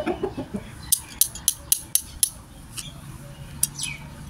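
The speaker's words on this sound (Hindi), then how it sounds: "तो हम लेके आ गए हैं जी मुर्गों को अंदर" Several chickens are carried indoors, giving a series of sharp, close clucks and squawks in quick bursts, with some shuffling and clinking in the background.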